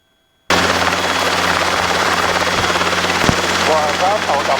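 A Robinson helicopter on a training flight, its engine and rotor a loud, steady drone that starts abruptly and holds constant, with a brief sharp crack partway through and faint chirping near the end.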